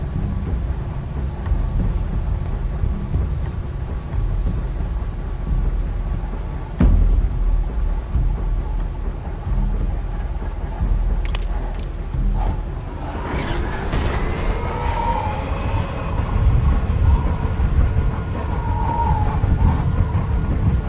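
Storm in The Walking Dead video game: steady rumbling wind and roar throughout, a sharp crack near the middle, then creaking, whining tones as something spins out of control, with no talk.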